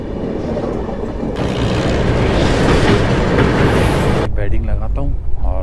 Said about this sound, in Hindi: तो ये ट्रेन अपने को ओवरटेक नहीं करी है